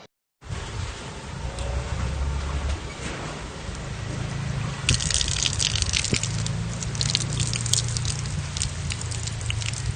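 Water runs and splashes steadily as tulsi (holy basil) leaves are washed by hand, a continuous close gush with brief drips and squishy swirls, louder in the second half, with no talking.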